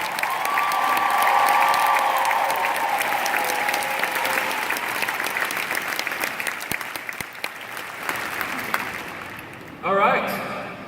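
Audience applause and cheering fill a final-night event, loud and sustained for about ten seconds, with a whistle early on, fading slightly before a brief louder burst near the end.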